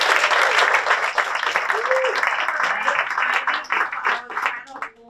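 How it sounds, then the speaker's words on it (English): An audience at a school Student of the Month ceremony in a high school district bursts into dense, steady applause that carries on for several seconds and then thins out, with a voice heard over the clapping. "Can we give another round of applause for all our students?"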